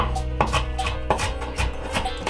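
Knife chopping vegetables, likely onion, for vegan cream of mushroom soup, heard as a few loud, sharp cuts at an uneven rhythm over steady background music.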